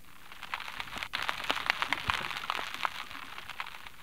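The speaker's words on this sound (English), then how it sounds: "the one of the most annoying noises we have in the sea is this shrimp called the snapping shrimp" Snapping shrimp heard in an underwater recording, a dense crackle of sharp clicks and pops spread steadily across the whole stretch like frying fat, with no voices.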